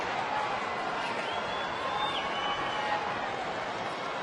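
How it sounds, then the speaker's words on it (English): A baseball crowd at a Texas Rangers game in 2010 boos Alex Rodriguez, a steady loud wash of jeers and crowd noise from a packed stadium, continuous throughout with no clear pauses. "a man that a lot of people love to boo"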